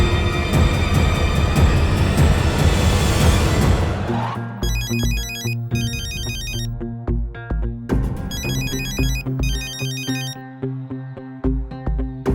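A dense wash of noise gives way to a repeating electronic ringtone melody, its bright chiming phrases recurring in bursts over a steady beat.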